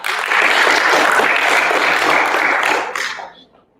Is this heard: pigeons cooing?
no